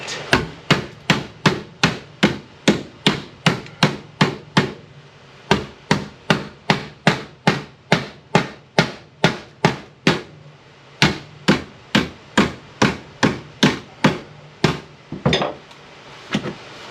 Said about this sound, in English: I brought the big hammer. So I'm going to put some taps on that.